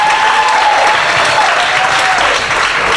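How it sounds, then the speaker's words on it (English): A comedy club audience at the Houston Improv breaks into loud, sustained applause, a thick wash of clapping with some crowd noise that holds steady for the full three seconds. "Big round of applause for Trey the Truth, for DJ Mr. Rogers, for stepping up."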